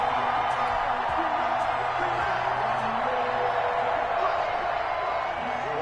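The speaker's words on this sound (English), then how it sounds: "And this crowd loves it as their guys hold on the opening drive." Football stadium crowd at a Seahawks versus Cardinals game cheering steadily as the home defense holds on the opening drive, a dense continuous roar with no breaks across the whole stretch.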